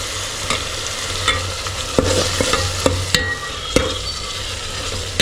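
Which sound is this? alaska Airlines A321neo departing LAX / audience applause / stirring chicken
stirring chicken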